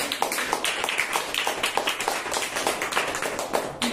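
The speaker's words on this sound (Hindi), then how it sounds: "हम जोर से ताली देंगे प्रभु" A church congregation claps loudly together during worship, rapid, fairly even hand claps in a steady rhythm, close and lively, with no talking.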